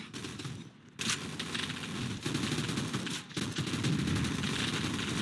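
Dense, sustained gunfire from the shooter game Gun Fire Arena, rapid overlapping shots forming a continuous roar with a few brief gaps, loud and close throughout.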